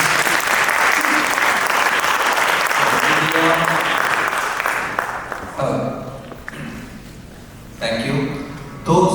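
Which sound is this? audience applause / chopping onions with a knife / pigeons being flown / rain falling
audience applause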